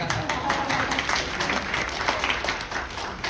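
An audience claps at a candidate forum on energy and the environment, dense continuous applause from a room of people, steady and moderately loud across the whole stretch.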